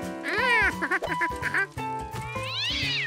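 A cat meows repeatedly, a few drawn-out, wailing calls with short pauses between them, close and clear.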